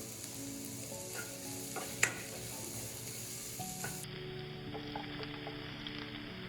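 Curry leaves hit hot butter with salt in a pan, giving a steady close sizzle with light stirring scrapes and one sharp clink near the middle.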